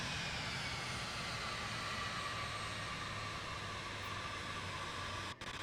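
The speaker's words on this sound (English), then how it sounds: "cool these engines down so we don't overspeed here" A steady, droning aircraft engine hum in Microsoft Flight Simulator 2, with a constant low tone under a broad hiss of airflow, holding even and unbroken before a brief dip at the very end.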